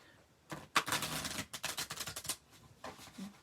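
Bingo cards being shuffled by hand, a close run of quick crisp flutters and riffled clicks in bursts, with no talking.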